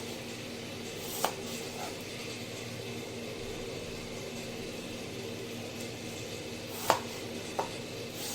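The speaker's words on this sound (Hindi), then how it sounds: "और इसके हमने क्यूब्स बनाने हैं इस तरह" A knife cutting fruit into cubes for homemade fruit custard: three faint isolated knife taps on a board, well spaced, over a steady low room hum, no talking.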